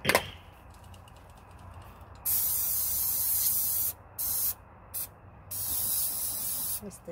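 Orange spray paint is sprayed onto a resin clutch purse in several close, loud hissing bursts of varying length, separated by brief pauses, with a small click at the start.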